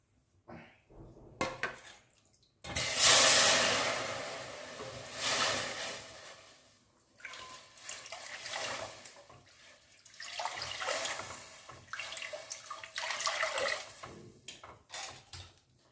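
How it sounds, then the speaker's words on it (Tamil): Water is poured into a cooking pot, five cups in all, while making thiruvathirai kali at dawn. A steady rushing splash runs in long stretches with brief breaks, fairly close, and no one talks. "அஞ்சு கப் தண்ணி ஊற்றிட்டு ரெண்டு கப் எல்லாம் சேர்க்குறேன்"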